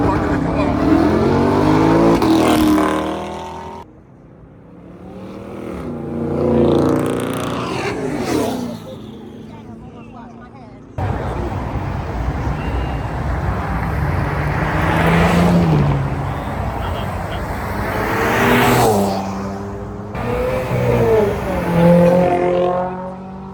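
Cars revving and passing at a Sunday car meet, engines rising and falling in pitch as several vehicles accelerate by one after another, loud and close, with people talking over them.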